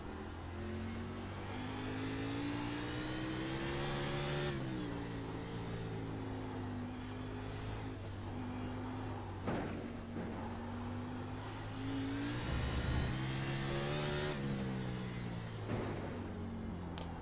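Xfinity race car driven fast around Sonoma Raceway, engine whining and revving through gear changes with pitch rising and dropping repeatedly, continuous and fairly close, no talking.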